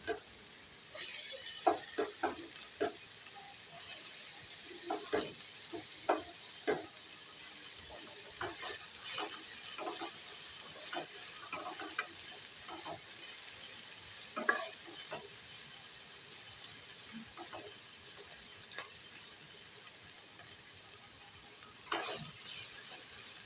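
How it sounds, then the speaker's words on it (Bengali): Carrots and beans fry in a pan for fried rice, a steady sizzle underneath with repeated scraping and stirring clinks of a spatula throughout, no voices. "এগুলো একটু ভেজে নেব, তারপরে এবার গাজর বিনসটাও দিয়ে দেবো"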